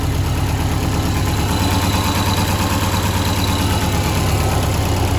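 A warmed-up turbocharged 2005 Subaru STI with a big turbo idles steadily and loudly up close, a continuous low rumble with a fast ticking pulse and injector clatter, with no talking.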